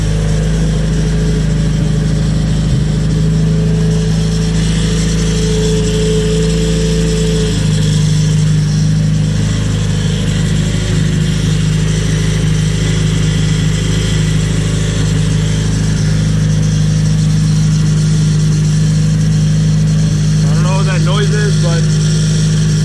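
A rebuilt Nissan KA24DET engine runs at a steady idle, a loud, close, continuous low drone with a slight shift in tone partway through and no revving.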